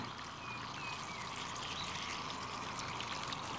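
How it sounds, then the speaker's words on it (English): Sugar syrup with vanilla and lemon zest is poured over rhubarb, giving a soft, continuous trickle that stays even and faint throughout. "We just pour it over the rhubarbs."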